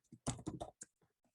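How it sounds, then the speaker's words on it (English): Typing on a computer keyboard, a quick run of close clicking keystrokes in small bursts, fairly quiet, followed by a few softer isolated taps, with no talking. "So let's say I am typing a text"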